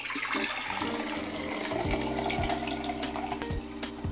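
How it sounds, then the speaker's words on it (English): Used E-6 colour reversal chemistry from a three-bath kit is poured from a developing tank back into a container, a continuous liquid gurgle and splash with a low resonant ringing, moderately quiet and alone. "I'll pour it back into my container so I can bottle it"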